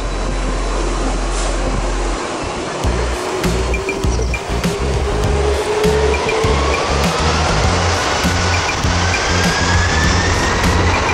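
A jet aircraft engine at takeoff roars loudly and continuously, a rising whine sweeping upward as the thrust builds, with a rushing, wind-like exhaust blast and no voices.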